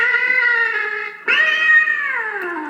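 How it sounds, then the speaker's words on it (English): Electronic Halloween toy cat letting out two long, loud, drawn-out meows back to back, close and clear with nothing else heard. "We got this stupid fucking cat that makes noise."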